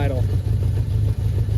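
A 1981 Yamaha XS1100 motorcycle engine, with a charging fault, idles steadily with a low, even rumble, close by, with no voices over it.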